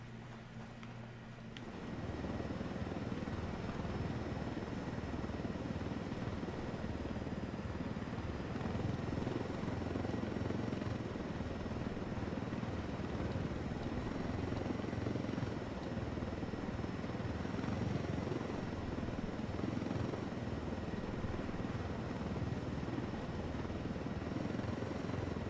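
A video game helicopter's steady rotor thrum and engine drone in Ghost Recon Wildlands, loud and constant after a brief quieter start, with a faint high whine riding over it.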